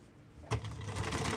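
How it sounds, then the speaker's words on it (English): Sewing machine running steadily while stitching a seam, a soft continuous mechanical whir that starts up partway through and carries on at low volume with no talking. "So I'm letting my foot touch on the edge of the line and then I'm just sewing."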